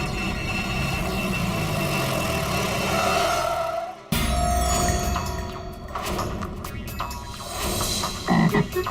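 A frog croaks continuously in a dense, rasping stream, loud and close, broken by a brief cut partway through before carrying on just as steadily.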